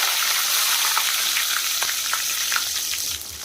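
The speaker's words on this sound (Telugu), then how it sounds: "ఫ్రెష్ కరివేపాకు వేసుకోవాలి" Fresh curry leaves hit hot oil in a home kitchen pan, producing a loud, continuous hissing sizzle studded with sharp crackles and pops, with no voices.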